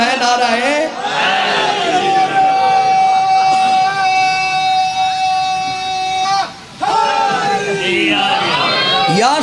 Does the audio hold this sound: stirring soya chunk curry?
no